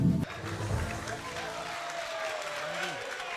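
An audience applauds artists at an official launch event in the Congo, with steady clapping throughout and a voice talking over it.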